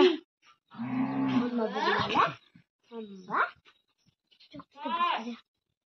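A goat bleats several times in a rural village yard, with people talking around the calls.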